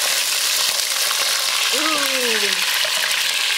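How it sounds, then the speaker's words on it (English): Drained quails sizzle steadily in hot oil for a korma, a dense, constant frying hiss filling the whole stretch, with a brief voiced exclamation partway through. "he is reaching out for the quails, the drained quails, and he's going to fry them with the oil, in the oil."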